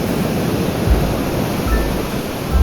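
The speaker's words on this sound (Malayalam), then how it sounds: "കടലിൻ്റെ തരംഗങ്ങൾ ആനന്ദമായി വരുന്നു." Ocean surf rolls in on a calm, sunny day at Vettukad beach in Trivandrum, a constant broad wash of waves with soft low thumps as they break.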